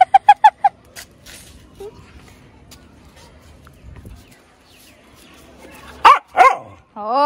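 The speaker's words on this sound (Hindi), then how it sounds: "इतनी तेज भौंका था तूने मम्मा को" A dog barks close by in a quick burst of several sharp yaps at the start, then a few louder, drawn-out barks near the end, with quiet voices and handling noise between.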